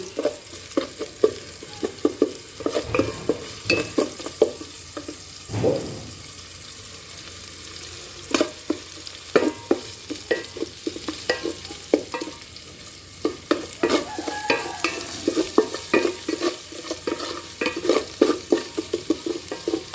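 Onion and garlic with salt sautéing in a pan, a steady low sizzle broken by frequent clinks and scrapes of a utensil stirring, close up and with no voices.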